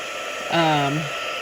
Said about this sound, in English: you want to make sure your heat tool is well heated up